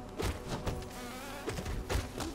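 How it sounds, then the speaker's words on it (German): Fast insect buzzing from Hollow Knight, a wasp-like creature in the game, swelling in short close passes with faint thuds and no talk. "Eine Wespe. Eine ziemlich schnelle Wespe."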